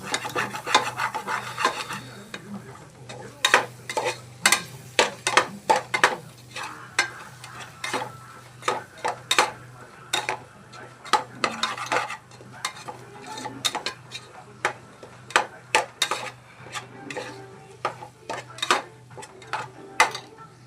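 Masala being stirred in a pan with a utensil, repeated scraping and rasping strokes in an irregular rhythm over a low steady hum, close and clear with no talking.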